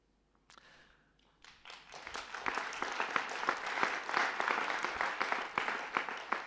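Applause from an audience after a speech: a few scattered claps at first, then a quickly building, dense round of many hands clapping that stays full and fairly close through to the end.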